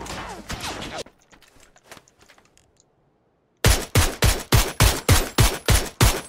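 Suppressed MK47 rifle firing in a video game: a steady run of about eight evenly spaced, punchy shots near the end, after a brief flurry of sharper reports and a quiet lull.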